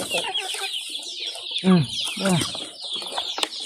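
Young chickens in a pen clucking and cheeping, several overlapping birds close by with a couple of louder clucks standing out, a busy chorus with no talk.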